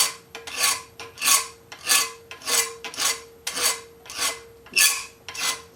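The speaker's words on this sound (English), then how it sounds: "Just file it by hand because it's aluminum and there's not that much." A coarse hand file rasps across an aluminum engine part in steady back-and-forth strokes, about a dozen close, loud passes with brief gaps between them.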